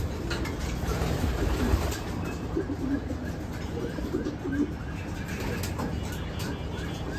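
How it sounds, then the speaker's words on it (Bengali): Pigeons coo in low, soft repeated bursts inside a loft, set against a constant rumbling background noise. "এখানে আমার কিছু স্টকের কবুতরও আছে"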